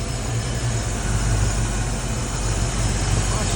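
Foxbody Mustang 5.0 V8 running at a steady idle on old fuel, a continuous low rumbling drone with even pulsing, close and moderately loud throughout with no talking.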